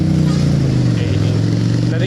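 A V-twin motorcycle engine hums low and steady while the bike is ridden through traffic, a continuous throbbing drone with a slight dip in pitch and wind noise over it.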